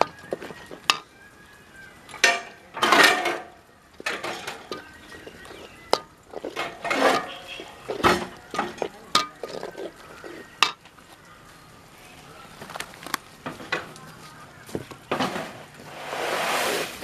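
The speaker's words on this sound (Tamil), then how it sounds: "குழம்பு நல்லா கொதிக்குது" Aara dried fish and brinjal kuzhambu, seasoned with chili powder, bubbles in a pot during village cooking while a spoon stirs it, giving irregular metallic clanks and scrapes against the pot over a soft simmering hiss.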